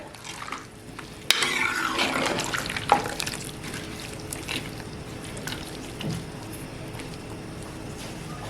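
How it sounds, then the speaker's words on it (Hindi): Chicken karahi with added water stirred in a pressure cooker over a low flame, a close, wet sloshing and scraping that swells after a sharp clank and continues steadily at moderate volume. "और इसको अच्छी तरीके से हिला लेंगे।"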